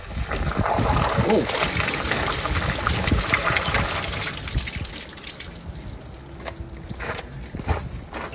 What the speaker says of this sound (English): I'm gonna go ahead and stick some water in there.